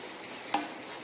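A spoon scrapes once, short and sharp, through roasted semolina in a pot after salt goes in, set against a steady low hiss from the stove.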